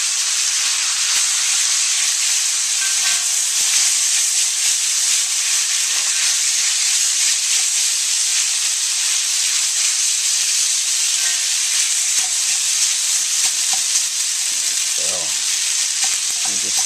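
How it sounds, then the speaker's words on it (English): Instant ramen noodles frying in a wok with scallions, a loud continuous sizzle and hiss with occasional soft scrapes and knocks of stirring. "Just spread those out in a thin layer on the bottom of the wok, and we'll mix in our ingredients"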